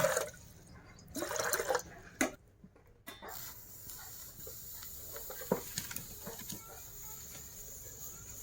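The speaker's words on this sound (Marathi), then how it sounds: "चुलीवरती ह्या पातेल्यामध्ये पाणी घालून गरम करायला ठेवूया" Water is poured into a metal pot on a wood-fired stove in a few faint bursts of splashing near the start, then quieter dripping and trickling.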